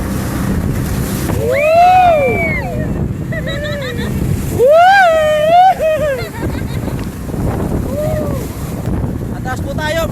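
Strong waves slap and rush around a boat crossing toward Taal Volcano Island, with constant wind buffeting the microphone and voices calling out and shouting over the noise.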